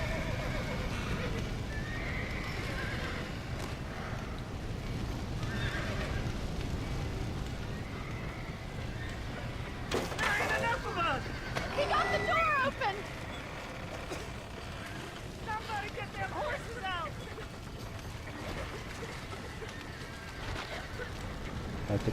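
A horse in the Red Dead Redemption video game whinnies and neighs several times over steady clip-clopping hooves, set against an ambient outdoor game soundscape with faint birds.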